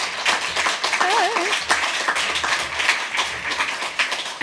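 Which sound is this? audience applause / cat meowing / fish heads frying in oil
audience applause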